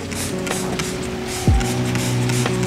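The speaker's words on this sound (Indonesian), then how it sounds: "Disemprot per daunnya, disemprot ya." A handheld sprayer mists water over plant leaves in a garden: one short, close spray burst against steady background hiss, with no talk.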